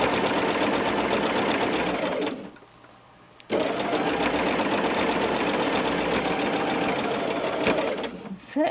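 A sewing machine stitches binding around the edge of homemade oven gloves, a steady loud mechanical whir that stops for about a second midway, then runs on continuously before slowing near the end.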